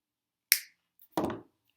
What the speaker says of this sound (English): I use my little wire cutters here